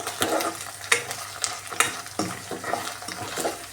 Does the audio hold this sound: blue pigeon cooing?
no